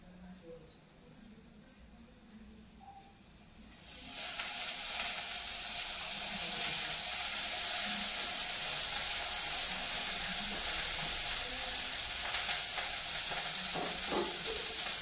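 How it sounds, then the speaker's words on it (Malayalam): Coconut oil hits a smoking-hot clay pot and breaks into a loud, steady sizzle after about four seconds, holding a bright, continuous hiss close by to the end. "ഓയിൽ ഇട്ട് കൊടുക്കാം കേട്ടോ."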